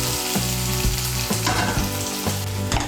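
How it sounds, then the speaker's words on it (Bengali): Onion frying until reddish brown for a Bengali flat bean and shrimp dish, a loud close sizzle with regular spatula scrapes and stirs every half second or so, no voices. "পেঁয়াজটাকে আমি লাল করে ভেজে নেব।"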